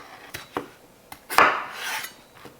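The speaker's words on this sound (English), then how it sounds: "So there's your potato. We're gonna cut in half." A knife cutting a potato in half on a kitchen board, a few sharp taps and knocks followed by a brief scraping slice, close and quiet.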